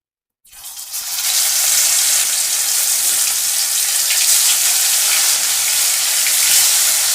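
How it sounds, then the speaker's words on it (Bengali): Crabs sizzle loudly in hot oil, a sudden burst of frying that settles into a steady, crackling hiss with no talking. "দারুণ কড়া কড়া করে ভাজা হচ্ছে"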